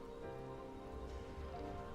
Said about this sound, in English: Alright, so that rain's still going. Toxic rain.